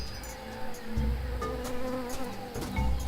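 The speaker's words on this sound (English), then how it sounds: "That jungle sure is noisy." Insects buzz and whir in a noisy jungle setting in the video game Tales of Monkey Island, a steady dense layer with occasional chirps and low thumps, no voices.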